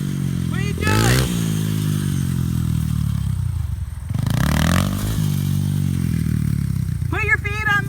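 A dirt bike engine revving up and falling back in two surges, loud and close, with mechanical clatter and a voice talking over it.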